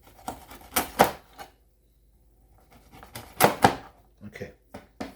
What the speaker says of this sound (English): And we'll cut it in thin slices